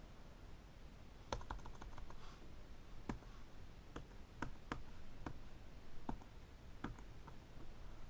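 Laptop keyboards are typed on with scattered, fairly faint key clicks and taps at an irregular rhythm, including a few sharper presses like an enter key, over a quiet room.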